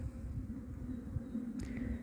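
Honeybees buzz in a steady low drone around a hive on an early March day, a continuous close hum with a couple of brief higher-pitched passes near the end.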